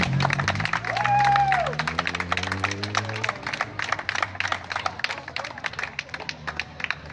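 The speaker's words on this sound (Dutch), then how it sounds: "Ik vraag bij deze aan het publiek een groot applaus voor deze geweldige mensen." Audience applause at the street opening of the Hoornse straatjes in Hoorn: dense, steady clapping fills the whole stretch, with a voice and a brief tonal call near the start.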